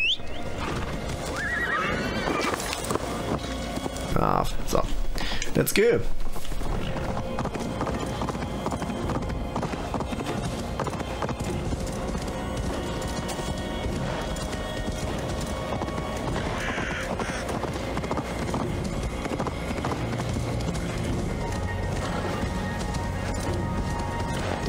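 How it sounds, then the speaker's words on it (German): A horse neighs loudly near the start in Assassin's Creed Valhalla, followed by steady hoofbeats galloping on, with someone speaking briefly in German over the game sounds. "Pferd."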